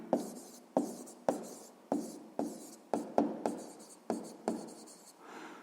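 Handwriting with a pen on paper during a sixth-grade math exercise, a series of about ten distinct scratchy strokes, each starting with a sharp tap and fading, close and quiet.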